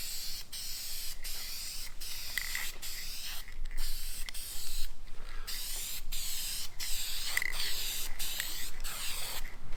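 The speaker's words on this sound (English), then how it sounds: "So let's get to spraying." Aerosol spray paint being applied to Ford F150 truck emblems, a series of close hissing bursts of varying length separated by brief pauses, loud and dry with no talking.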